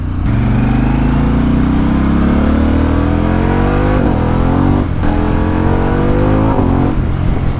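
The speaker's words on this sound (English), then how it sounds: "the exhaust also, it has like these nice little burbles, little cracks and pops every now and then" A Harley-Davidson motorcycle engine roars loud and close, its exhaust pitch climbing steadily under acceleration with brief breaks near the end, without distinct pops.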